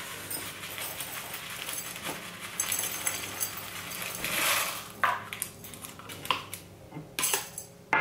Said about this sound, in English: Now I'm just gonna pot her into this pot.